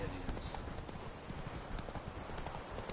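Horse hooves clip-clop in a steady trotting rhythm in the video game The Witcher 3, close and continuous, with some talk over them.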